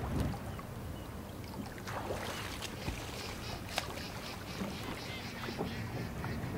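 A canoe moves across a Boundary Waters lake, with soft paddle and water sounds under constant wind and outdoor hiss; faint, diffuse and without speech.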